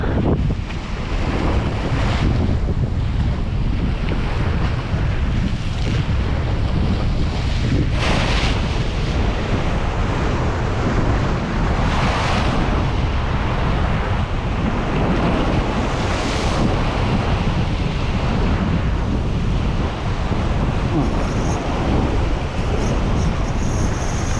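Ocean waves surge and break continuously during shore fishing, mixed with heavy wind buffeting the microphone, loud and steady throughout with no voices.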